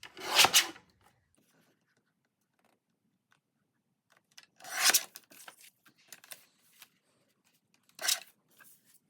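Scissors trimming around a paper collage cutout, short crisp snipping bursts at the start, in the middle and near the end, close and clear, separated by quiet gaps with faint light rustling.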